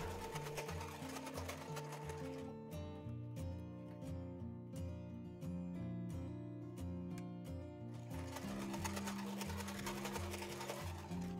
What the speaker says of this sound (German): Steppt euch dann die beiden langen Seiten nochmal ab.